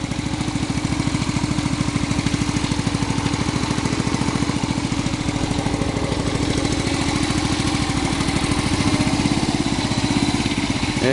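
A Yamaha FZ 150cc motorcycle idles during carburetor balancing, a close, loud, steady rhythmic putter with an even low-pitched pulse throughout and no talking.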